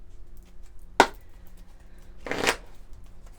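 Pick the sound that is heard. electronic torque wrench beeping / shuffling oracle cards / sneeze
shuffling oracle cards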